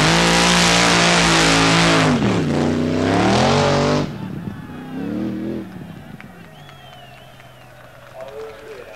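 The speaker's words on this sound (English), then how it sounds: "The aim of a drag race is to get an engine to go as fast as possible, as quickly as possible" A 1977 drag racing car at Santa Pod roars loud and close, its engine note climbing, dipping and rising again as it accelerates, then fading to a quieter distant rumble.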